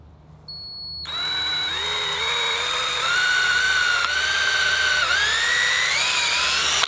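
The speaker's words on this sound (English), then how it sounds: "So we're going to drill all the way through both of these" A power drill whirs up to speed and runs steadily, its pitch dipping slightly as it bites through two wooden pieces of an A-frame level, loud and close.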